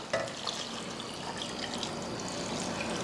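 Water pours steadily into a pot of mutton with spice paste, turmeric and salt, a soft continuous splashing trickle at close range, fairly quiet.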